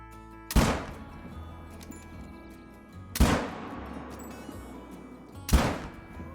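Three loud rifle shots from a hunting video game crack out at spaced intervals, each a sharp close report with a booming echo that decays before the next shot.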